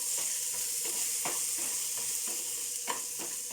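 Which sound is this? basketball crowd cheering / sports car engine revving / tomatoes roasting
tomatoes roasting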